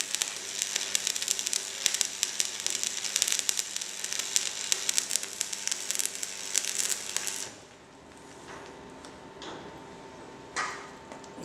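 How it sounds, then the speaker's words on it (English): Fire in a metal workshop, where a three-point linkage fork is being fabricated, makes a close, dense crackling sizzle for several seconds before it cuts out, leaving a quieter room with a few faint knocks. "Behold, we have fire."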